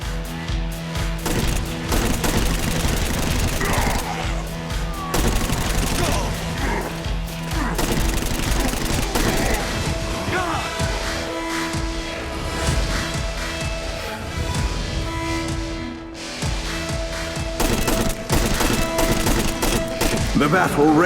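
Battle gunfire in the video game Saints Row: Gat out of Hell: continuous volleys of shots and crashing impacts rattle on throughout, loud and busy, tangled with other game noise.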